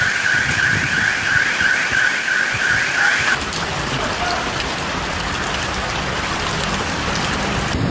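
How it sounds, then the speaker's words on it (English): Heavy thunderstorm rain in Athens, a loud dense hiss of downpour on surfaces, with a wailing car alarm sounding through it for the first few seconds before the rain continues alone. "trapped in a violent thunderstorm with heavy rain, powerful wind gusts, and frequent lightning striking nearby"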